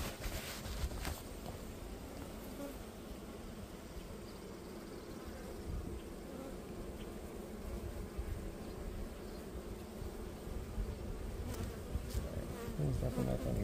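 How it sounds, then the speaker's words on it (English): Honeybees swarm around an open beehive during beekeeping work, a dense continuous buzz of many insects hovering close by for the full stretch, steady and fairly quiet with occasional louder passes near the microphone. "There are so many bees now."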